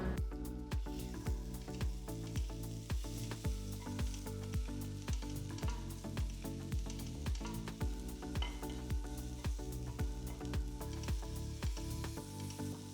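Ginger garlic paste fries with golden onions in a pan, loud continuous sizzling broken by regular scraping strokes of a spoon stirring, close-up and with no voice.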